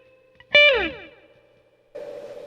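A single electric guitar note is struck through an effects pedal set to a very fast rate, ringing out with a shimmering, reverb-like smear that decays to a faint hum before another strum starts, with no voices.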